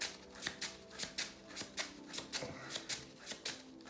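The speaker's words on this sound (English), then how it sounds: "I'm going to draw a card, which causes a reshuffle." A deck of cards being shuffled during a Transformers card game, with a run of crisp, evenly spaced riffling bursts, about one every half second, close and clear, with no talking.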